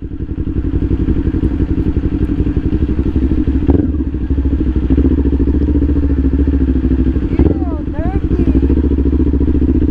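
Several motorcycles ride over rocky, rough off-road terrain on a holiday ride to San Felipe, Zambales, Philippines, their engines droning loud and steady throughout with clattering thuds from the bumpy ground and a brief dip near the middle.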